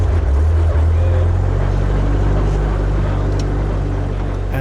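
Robinson R-22 helicopter engine cranking and running, a loud steady low mechanical drone with strong rumbling harmonics filling the cabin throughout.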